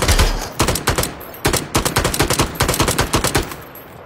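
Rapid bursts of automatic gunfire in a multiplayer shooting video game, loud and close, with repeated volleys and short pauses between strings of shots.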